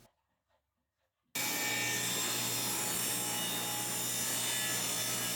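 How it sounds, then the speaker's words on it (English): A table saw cuts wood on a crosscut sled: after about a second of near silence the saw starts and runs loud and steady with a constant whine and rough cutting noise, close up, with no talking. "The table saw blade flips the offcuts back, but the sled handles keep me out of harm's way."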